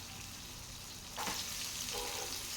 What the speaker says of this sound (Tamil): இப்போது இதை நல்லா ஃப்ரை பண்ணி விட்டுக்கலாம். இது கூட வெங்காயம் 2 பச்சை மிளகாய் சேர்த்துக்கலாம்.